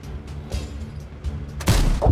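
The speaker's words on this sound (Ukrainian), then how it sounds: "був постріл, був постріл, треба перезаряджатися і забирати" A Leopard PT A tank fires in World of Tanks, a sudden loud booming shot after a stretch of low rumbling engine and battle noise, followed by a second thump.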